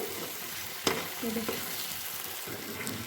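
Spice paste frying in a wok (kadai) for Bengali doi katla, a soft continuous sizzle with one sharp utensil clack and some stirring scrapes, close and fairly quiet, no talk.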